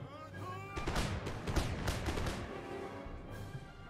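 Musket volleys crackle from massed line infantry in an Empire: Total War battle, with several bursts of overlapping shots around the middle over a steady battlefield din and music, at moderate loudness.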